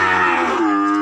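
A single cow lets out one loud, close, drawn-out moo at a cattle farm in Đồng Xuân district, Phú Yên, holding a steady pitch before dropping at the end.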